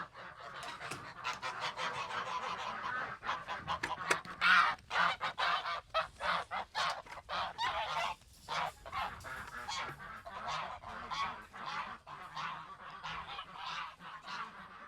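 A flock of geese honking loudly and repeatedly nearby, a busy, overlapping chorus of harsh calls that keeps going without pause.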